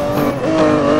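Racing car in the video game Need for Speed Most Wanted: a brief, loud burst of revving engine whine with a rising tone, close and continuous.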